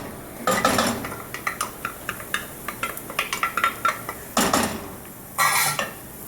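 Leek sautés quickly in a pan for risotto, with the spoon clicking and scraping against the pan in quick repeated strokes and short bursts of sizzling.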